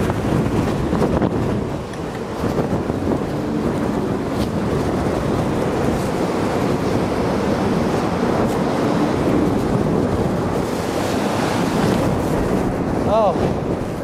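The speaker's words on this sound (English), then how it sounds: "This is really interesting doing this at 60 mile per hour winds." Strong wind of about 60 mph roars and buffets against the microphone for the whole stretch, a steady, heavy rushing noise with occasional gusts, outdoors during a Porsche 3.2 Carrera engine install.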